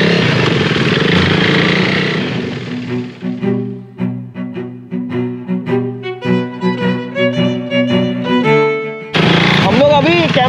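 A KTM Duke 390 motorcycle engine runs close, with an irregular chain of pulsing beats that settles between steady roars, and people talk over it.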